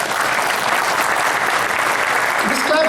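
A convention audience applauds loudly and steadily, a thick roar of many hands clapping at once, with a voice breaking in near the end as the applause tails off.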